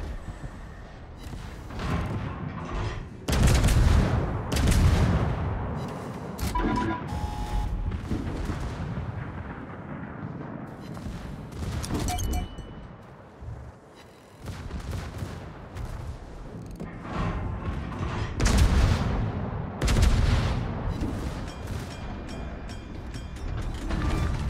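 Naval gunfire in a warship video game, with the Tier 10 cruiser VMF Stalingrad in battle: heavy, booming salvos and rumbling blasts come in loud bursts, alongside mechanical clanks and creaks, with no talking.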